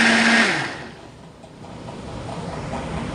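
A kitchen blender runs loud and whirring, grinding bread and milk into a paste for bread kheer, its pitch dropping and the churning settling into a rough, steady roar.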